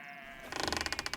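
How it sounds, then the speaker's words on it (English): A sheep bleats close by, one long wavering, pulsing cry that rises abruptly after a brief faint tone and carries on loudly to the end, with no talking over it. "I'm just recording a podcast with sheep"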